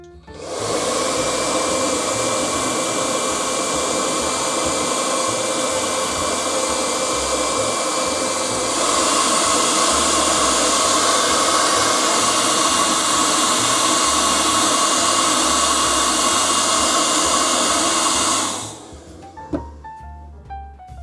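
Hot air blower heating a cracked windshield on a 44-foot RV, roaring steadily and loud up close for about eighteen seconds before shutting off, followed by faint clicks.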